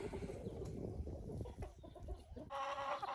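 Several hens in a chicken coop cluck and murmur close by, a shifting cluster of short throaty calls, with one louder sustained call rising near the end.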